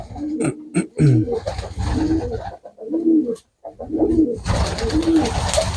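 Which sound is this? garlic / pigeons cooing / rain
pigeons cooing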